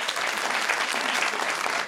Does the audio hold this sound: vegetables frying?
no